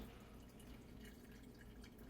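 Brewed coffee dripping steadily into a pot, a soft continuous rain-like patter that stays quiet and even throughout, with no voices.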